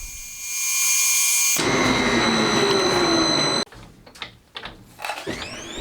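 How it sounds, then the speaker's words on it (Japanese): Center drill spotting the start of a hole in metal stock spinning on a lathe, a steady loud whirring grind that cuts off abruptly partway through, followed by softer irregular scraping and tool noises. "いつも通りまずはセンタードリルですね。"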